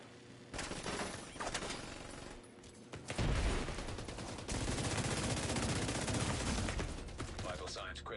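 Sustained automatic gunfire in the Division 2 shooter, loud bursts rattling on for several seconds with dense rapid shots, joined by in-game voice alerts over the firing.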